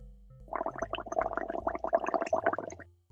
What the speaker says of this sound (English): you blowing bubbles in water